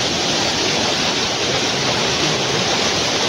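Clear water of a stream rushes in a steady, close, dense wash without pauses, and no voices break through.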